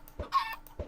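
Chickens in a video game clucking, two or three short clucks in quick succession within about a second, fairly clear and alone.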